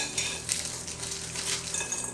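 Frozen broccoli is tossed with oil and garlic rub in a bowl, giving faint, steady clinks and scrapes of florets and a utensil against the dish, with no talking.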